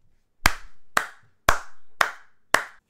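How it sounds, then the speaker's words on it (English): Five sharp hand claps ring out one after another at an even, half-second pace, close and loud, each with a short echoing tail and no voices. "Can we clap it up for YRG?"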